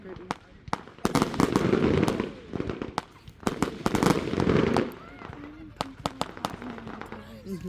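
July 4th fireworks go off in rapid bursts, sharp crackling pops and booms scattered in clusters with some louder rolling volleys, while people nearby talk and react over them.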